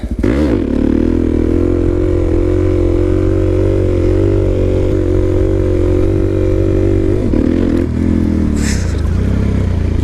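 A motorcycle ridden between spots drones loudly and steadily nearby, its engine note holding then shifting as the rider eases off, with rattles and scrapes over the top and no speech.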